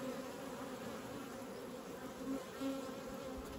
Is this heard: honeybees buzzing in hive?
yes